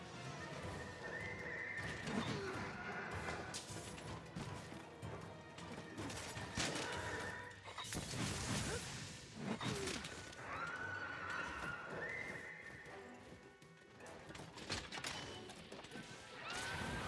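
In Monster Hunter World, a horse neighs with drawn-out whinnies that recur several times. Clip-clopping hooves and occasional crashing impacts from the game fill the gaps, with no voices.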